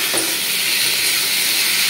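Figs (dumur) frying in hot oil with spices in a pan, giving a steady, close, bright sizzle and hiss that continues evenly without pause.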